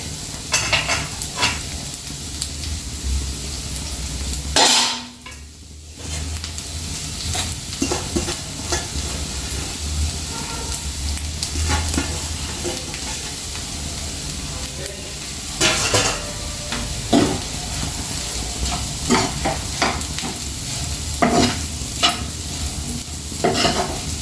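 Onion egg curry frying in a pan gives a constant, close sizzle, with stirring scrapes and a few clatters of the utensil against the pan. The sound briefly dips near the five-second mark and no one speaks.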